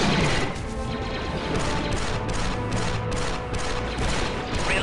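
A fleeing fighter craft explodes in a video game, a dense, loud, sustained crash and rumble of blasts filling the whole clip with no speech.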